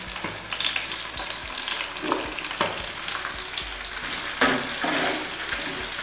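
Onions and capsicum stir-frying on high flame for chilli paneer, a continuous loud sizzle with scraping stirring strokes and occasional sharper clinks of the spatula against the pan, close up.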